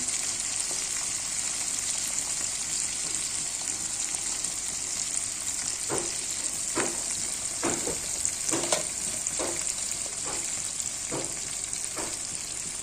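Spices for a thin egg curry, with salt and turmeric, frying in a pan, a constant bright sizzle with a series of scraping stirs clustered in the second half, close and steady, without voices.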